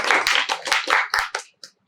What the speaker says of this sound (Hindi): तो इनके लिए थोड़ा सा तालियां हो जाए।